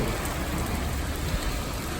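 Steady rain falls outdoors during a thunderstorm, a dense continuous hiss with no distinct thunder or other sounds standing out.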